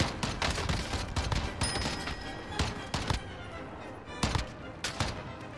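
Rapid bursts of gunfire from a gun in a shooter video game, loud and close, with dense overlapping shots and short pauses between volleys.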